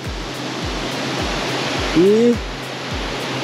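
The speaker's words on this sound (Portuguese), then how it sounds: "essa cachoeira aqui. Pequenininha, mais um poço mesmo." Small waterfall pouring into a natural swimming pool in Delfinópolis, a steady close hiss of falling water with regular low thumps beneath and a brief voiced syllable in the middle.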